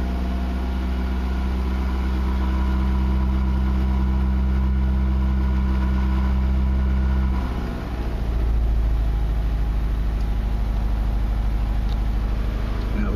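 An engine runs at a steady high idle of around 1900 RPM during an EEC-IV cylinder balance test. It drones loudly and close, then shows a brief dip and shift in tone as one fuel injector is cut before recovering.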